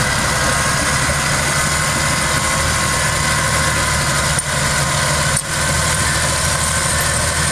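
A 1995 Caterpillar D6H crawler tractor with diff steer runs steadily close by, its diesel rumble loud and continuous, with two brief dips partway through and no talk.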